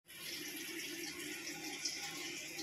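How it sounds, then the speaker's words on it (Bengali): Water is poured out of a container in one steady, unbroken gush lasting a few seconds, close and moderately loud. "জলটা পুরো ফেলে দেবো"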